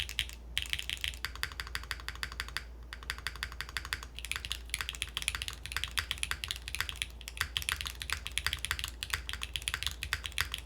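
Typing on a Game Boy DMG themed mechanical keyboard, a fast, continuous clatter of keystrokes, close and even, with a low background hum and no speech.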